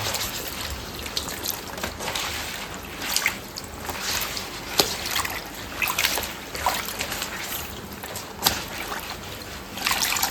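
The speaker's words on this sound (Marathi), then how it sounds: "नळाखाली धुवायला पाणी पण असं हे राहतं ना" Tap water runs steadily while colocasia (taro) leaves are rinsed under it, a close, continuous trickling and splashing with small irregular spatters and no voices.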